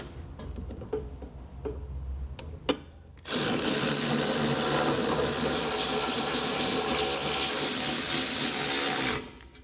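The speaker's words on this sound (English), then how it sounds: "we're going to grab a 3/4 inch socket and run all these down." A socket wrench running down bolts on a B and W Companion fifth wheel hitch in a 2019 Ford F-350: a few light clicks and taps, then a loud steady whirring rattle for about six seconds that cuts off abruptly.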